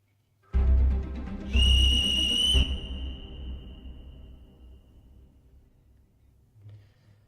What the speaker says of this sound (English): They're going to whistle that one back.